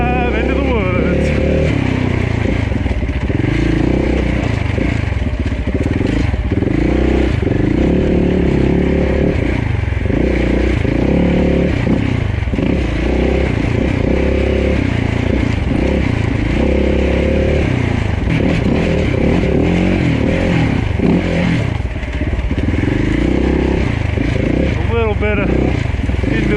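A dirt bike engine riding a woodland race course, loud and close, revving up and down continuously with the throttle changes as the bike weaves between trees, under a rider's voice.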